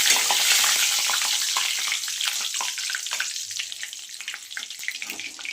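Bay leaf dropped into well-heated mustard oil sizzles and crackles loudly and close, a dense hiss that gradually eases over several seconds, with no voices.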